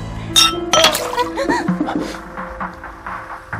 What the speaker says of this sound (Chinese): 咱们干一杯吧